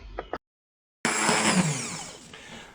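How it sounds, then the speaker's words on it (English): A loud immersion blender whirs steadily after a short pause, pureeing blueberry chia jam, its motor pitch shifting slightly as it churns. "I'm going to use an immersion blender to smooth it out and to puree it here"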